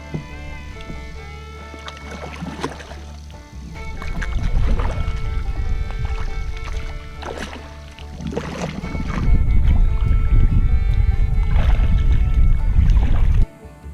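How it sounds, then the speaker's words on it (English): A Pelican Motion 100X kayak paddled out on the water while fishing for bluegill, with rhythmic paddle splashes and dripping over a steady low rumble of water and hull, growing louder and closer toward the end. "All right, paddle on out of here."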